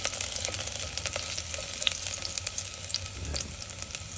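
Garlic sautéing in a pan for Cebuano pork nilaga, a dense, continuous sizzle and crackle with small pops, close and even in level.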